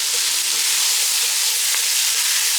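Garlic sautéing in a pan for seafood and sausage gumbo, a dense, steady sizzle and hiss held close and loud throughout, with faint stirring clicks and no talk.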